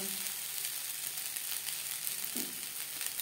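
Leftover rice being stir-fried with vegetables in a pan over low to medium flame, a steady close hiss of frying with a brief soft stir, and no talking.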